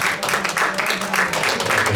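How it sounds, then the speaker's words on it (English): Audience applause for the speakers at a panel event on support for vulnerable and less privileged people, a steady wash of clapping filling the whole stretch at moderate level. "Let's applaud all of them. Very big round of applause."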